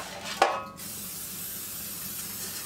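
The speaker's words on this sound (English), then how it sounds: "So I'm gonna go ahead and spray it real good." A short burst of cooking spray hisses onto a nonstick pan near the start, followed by quiet room noise.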